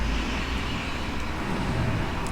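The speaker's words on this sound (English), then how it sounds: "It's like a loud ass truck outside." A loud truck outside gives off a constant low rumble and broad roadway noise that stays steady and fairly strong throughout, with no clear voices.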